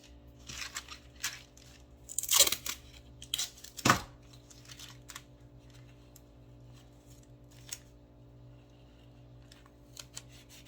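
Cardboard cat house panel edge being trimmed by hand, close snipping and tearing cuts in short irregular bursts, two sharper crunchy cuts standing out, over a steady low background hum.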